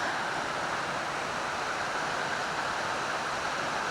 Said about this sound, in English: pretty cool little waterfall.